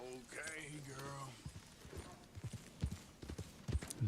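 Hooves of a heavy Iron Grey Ardennes horse clip-clopping in Red Dead Redemption 2, a soft irregular patter of steps that follows a spoken voice and runs quietly in the background.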